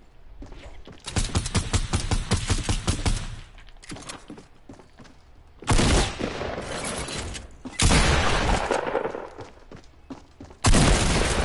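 Rapid bursts of video-game gunfire in a Fortnite-style getaway match, a dense fusillade of repeated shots early on, then several loud, sudden blasts breaking through quieter stretches.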